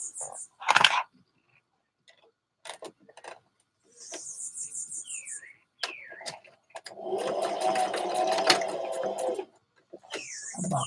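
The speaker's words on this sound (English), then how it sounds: "You're stitching down the back facing in the seam." A sewing machine stitches down the back facing of a dress in a single buzzing run of about two seconds near the end, amid scattered clicks, high whistling tones and brief handling noises.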